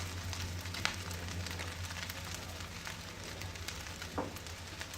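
Egg fried rice sizzles steadily in a pan as it is stirred, a soft continuous frying hiss with occasional faint scrapes, fairly quiet throughout.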